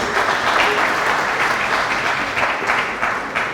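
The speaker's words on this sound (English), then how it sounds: "Clap for them, please." A crowd at a university student association inauguration ceremony in Kenya applauds steadily, a dense, sustained clapping that fills the whole stretch at even loudness without speech.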